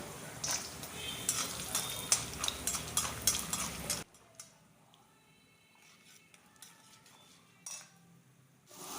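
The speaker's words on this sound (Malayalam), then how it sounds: "ഇനി നമ്മൾ ചേർക്കുന്നത് കുറച്ച് നിലക്കടലയാണ്" Peanuts and chana dal frying in a pan for lemon rice, with a busy close sizzle and scraping stirs that give way to a quieter stretch of faint clinks and occasional stirring.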